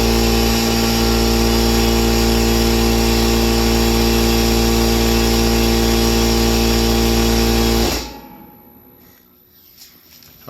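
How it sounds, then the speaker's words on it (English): A 2007 Xantrex 3000W inverter runs an air compressor, a loud steady motor drone with strong tonal hum that cuts off abruptly near the end, leaving quiet room tone. "I try turning the compressor on again."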